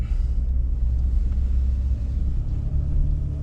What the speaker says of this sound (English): as I make this drive, you'll get to hear how the truck sounds with the Vibrant Street Power muffler